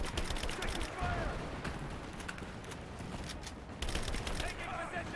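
Rapid gunfire fills a firefight in the video game Rise of the Tomb Raider, with dense volleys of automatic shots crackling continuously, bursting louder near the start and end, while shouted voices mingle with the battle.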